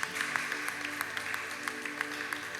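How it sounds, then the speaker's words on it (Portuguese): A church congregation applauds, its steady clapping carrying over a sustained tonal background, with a few sharper claps standing out. "Vamos aplaudir a vida desse casal aqui,"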